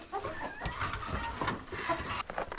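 Backyard chickens clucking near the coop on a snowy day, a close, busy stream of overlapping clucks and soft squawks with no talking.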